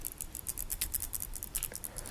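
The rotating bezel of a bronze Samsung Galaxy Watch 3 is turned, giving a quick run of small, crisp clicks that sound close and fairly quiet.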